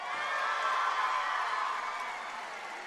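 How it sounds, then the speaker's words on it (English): Distant crowd cheering and applause in a gym at a boys' high school basketball game between Mark Morris and R.A. Long, a steady wash of clapping and voices that fades slightly toward the end. "That last statement didn't draw much applause from the Mark Morris side"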